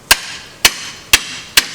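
A hammer strikes hardwood pallet boards four times. The blows are sharp, close and evenly spaced, each a crisp knock with a short ring, with no talking.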